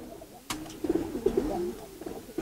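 Giribaz pigeons coo in a few soft, throaty bursts after a sharp click, close by and with no talking over them.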